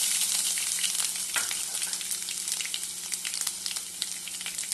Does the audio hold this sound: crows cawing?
no